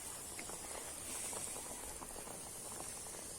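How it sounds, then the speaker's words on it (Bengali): Lentils (dal) simmering in a pot on the stove give a faint, steady bubbling and soft hiss, with small irregular pops over a low, constant background and no talking. "তো ডালটা সেদ্ধ করতে দিয়েছি এইভাবে।"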